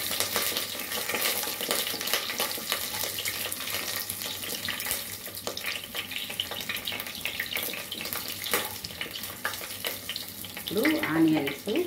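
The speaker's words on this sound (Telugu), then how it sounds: "ఇవన్నీ ఇలా లైట్గా వేయించుకున్నాము." Ginger, garlic and a green chili fry lightly in a pan, a continuous bright sizzle with occasional stirring clatter, close and fairly loud, and a brief rise in noise near the end.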